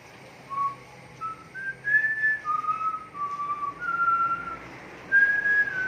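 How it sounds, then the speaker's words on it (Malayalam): A person whistles a short, wavering tune alone, bright clear notes rising and falling over a few seconds. "ആരാ ഇവിടെ ചൂളം അടിക്കുന്നേ"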